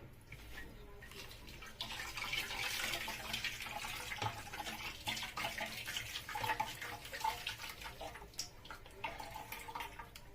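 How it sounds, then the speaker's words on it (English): Water poured into a cooking pot while making a fish, yam and plantain pepper soup, a steady splashing pour running close up for most of the stretch. "So I'm going to add a bit more of water."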